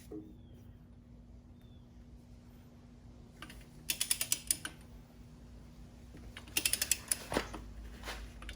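A torque wrench ratchets a flywheel bolt to 70 foot-pounds on a Suzuki LT500R Quadzilla quad, with two distinct bursts of sharp, close clicking separated by a quiet pause.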